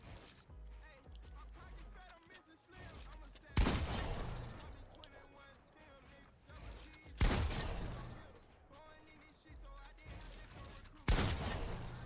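Gunshots in Fortnite Battle Royale on a practice map with a sentry bot, three sharp loud blasts spaced a few seconds apart over quieter in-game background sounds.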